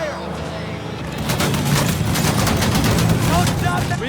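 Sustained gunfire during a firefight in the video game Mafia 3, a dense, loud rattle of rapid shots that builds and continues throughout, with voices speaking over it.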